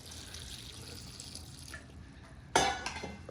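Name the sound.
pouring water into ash gourd curry pot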